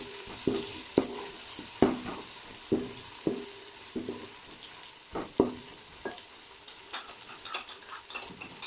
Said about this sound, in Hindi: अब इसमें लहसुन पेस्ट ऐड करके 2 मिनट के लिए पकने देंगे इसे